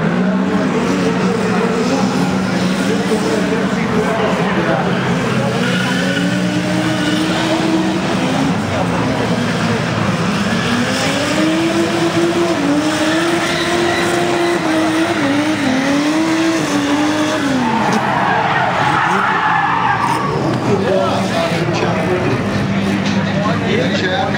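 Drift cars circle a track at a drift event, engines revving loudly in rising and falling sweeps with tire squeal and skidding, a continuous dense roar throughout with crowd and voices mixed in.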